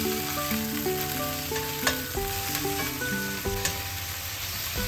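Meat patties fry in a pan with a steady, dense sizzle close by, while brief clinks and scrapes of stirring or turning cut through now and then.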